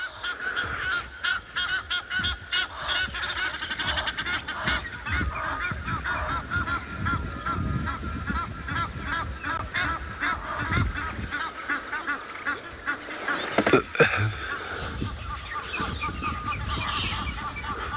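A dense chorus of honking, cawing birds calling over one another continuously at a nest in South Africa, with a sharper burst of calls near the end.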